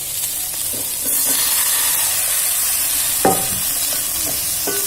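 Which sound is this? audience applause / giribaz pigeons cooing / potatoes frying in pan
potatoes frying in pan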